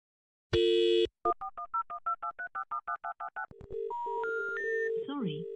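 Telephone dialing tones: a short burst of dial tone, then a rapid run of about a dozen evenly spaced touch-tone beeps, followed by rising call-progress tones, loud and clear.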